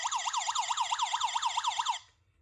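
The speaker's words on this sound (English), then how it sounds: "You can also do a self-test to make sure the beep works." Steadfast Haven carbon monoxide detector running its self-test: a loud, fast warbling electronic alarm that sweeps up and down like a siren for about two seconds, then cuts off.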